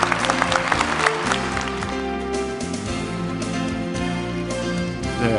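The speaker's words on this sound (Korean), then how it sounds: "여러분 큰 박수로 축하해 주시기" Ceremony audience applauding a research award winner at a university event in Kyung Hee University, with sustained clapping over music playing underneath, fairly loud and continuous throughout.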